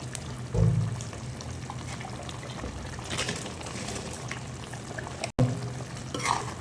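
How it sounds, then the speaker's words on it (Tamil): Water poured into a simmering egg gravy masala with ginger garlic paste, a soft pouring splash near the start followed by a low liquid trickle and bubbling, faint and close. "ஸோ இதில் தண்ணி லைட்டாக மிக்ஸ் பண்ணி ஊற்றிக்கிறேன்"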